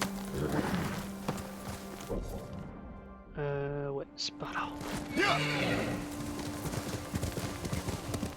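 Horse hooves clip-clopping in the video game Ghost of Tsushima, rhythmic thuds mixed with game effects and a whinny, while someone talks over the play.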